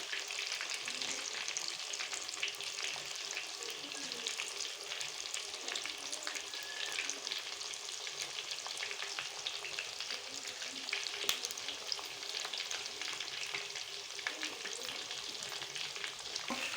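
Chicken pakoras fry in hot oil with a steady, dense sizzle and crackle that carries on evenly and fairly softly throughout, with no voices.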